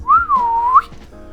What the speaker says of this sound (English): I have headphones on and I just whistled into the microphone.